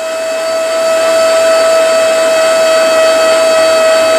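A Hoover portable spot cleaner runs steadily with a strong motor whine as its brush roll scrubs, loud and close with no pauses.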